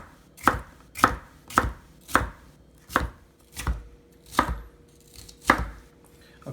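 A knife cuts bell peppers into thin slices on a cutting board, giving about nine crisp, evenly spaced chops with quiet gaps between them and no talking.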